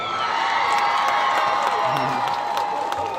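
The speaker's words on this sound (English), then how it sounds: "I can throw some more applause in there. Here, we'll get some sound effects." A crowd cheers and applauds steadily, with whoops and shouts layered over a continuous wash of clapping.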